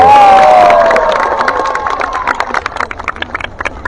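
A crowd at a political gathering in Surabaya cheers and claps for Pak Oso, with shouting voices and a rising whoop at first giving way to scattered, loud claps and calls close by.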